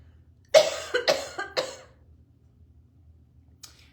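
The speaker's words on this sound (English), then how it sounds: "My throat's already starting to clear. So yeah, you might need to cough or clear your throat." A short burst of several close coughs and throat clearing, then quiet with one faint breath near the end.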